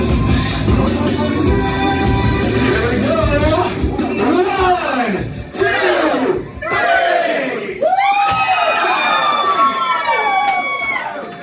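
A sideshow audience at an evening circus screams together, loud and sustained, in a dense mass of rising and falling voices. It breaks off briefly before another long group scream follows.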